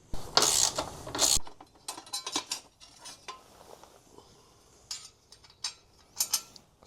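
Ratchet loosening bolts on the brake cover of a Honda CRM 250 motorcycle: a loud burst of rapid metallic clicking at the start, then scattered softer clicks and tool clinks close by.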